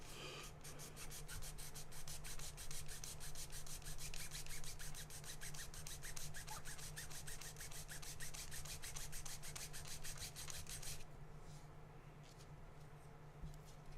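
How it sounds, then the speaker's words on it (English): Steady, rapid rasping strokes of sanding on a custom build, a dense rhythmic scrubbing held for about eleven seconds before easing into quieter handling noise, close and fairly faint with no talk. "Sand the crap out of this thing."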